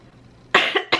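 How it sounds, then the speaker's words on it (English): A woman coughs twice, close and loud, the first cough harsh and drawn out with a shorter burst after it, against a quiet room. "as she coughs."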